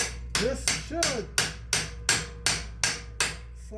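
A hammer repeatedly strikes a rusted brake bracket on a Subaru Impreza, nine sharp metallic blows at an even rhythm, each ringing briefly, close and loud with a low hum underneath.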